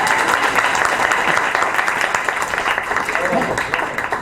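An audience applauds as a guest performer is welcomed onstage at a live show, giving loud, sustained clapping with voices mixed into the crowd noise.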